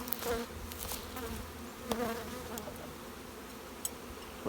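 Honeybees buzz steadily around an open hive while it is being split, a dense close hum with occasional louder passes of single bees near the microphone.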